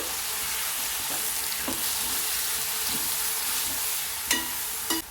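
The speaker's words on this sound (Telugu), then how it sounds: "పచ్చిమిర్చి వేగినాయి కదండి ఇప్పుడు ఉల్లిపాయ తరుము వేసుకోవాలి ఇప్పుడు కలపాలండి" Green chillies and chopped onion fry in a pan with a loud, steady sizzle. Scattered taps and scrapes come from stirring, and two sharper knocks sound near the end.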